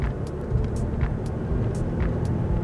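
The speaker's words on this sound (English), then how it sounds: "Acceleration is really nice." Interior of a Mazda 3 with a dual clutch transmission accelerating smoothly, a steady low engine and road rumble heard from inside the cabin, moderately loud and continuous with no talk.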